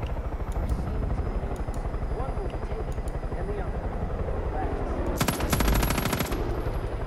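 Helicopter rotor thumping steadily throughout a Far Cry 5 gameplay scene, with a burst of rapid machine-gun fire near the end and game effects layered over the rotor drone.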